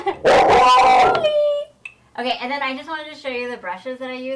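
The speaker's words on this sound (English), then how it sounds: "That's our dog." A pet dog whimpers and yips with high, wavering whines right after a short burst of barking, fairly close, while someone talks over it.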